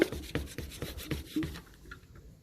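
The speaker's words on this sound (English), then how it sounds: "This is taking off some of the rust there." Rust is rubbed off old metal by hand in a shed, a series of close, quick scraping strokes in an uneven rhythm that thin out and fade toward the end.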